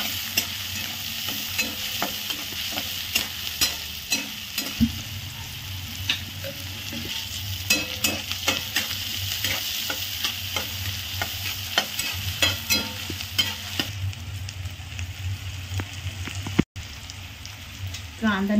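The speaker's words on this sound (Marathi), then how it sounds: "तेल टाकलंय आणि कांदा आणि टमाटा टाकले, ते आपण भाजून घ्यायचं आता." Chopped onion and tomato fry in hot oil in a pan, hissing and sizzling steadily with frequent scraping stirs and small crackles close by, while someone speaks softly at times.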